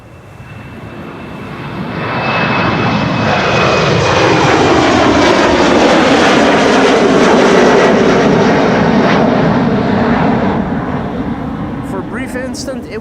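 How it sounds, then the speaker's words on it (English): A KLM Embraer 190 jet departs Amsterdam Schiphol for Düsseldorf, its engine roar swelling loudly as it passes close by, holding for several seconds, then slowly fading. "After that, an Embraer 190 to Düsseldorf, KLM Flight 1799."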